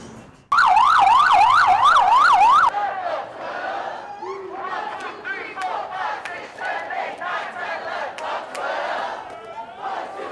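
An ambulance siren wails near the Queensboro Bridge, its rapid rising and falling tone loud for about two seconds before cutting off, followed by a chattering crowd and scattered voices.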